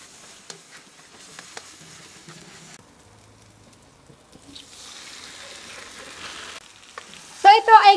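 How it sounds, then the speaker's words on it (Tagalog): Tomato paste sauce with oyster sauce and salt simmers in a pan for a stuffed squid dish, giving a faint bubbling sizzle with a near-silent gap, then a brief louder burst of stirring at the end. "haluin lang natin dito for a few minutes para matanggal yung asim ng ating tomato paste"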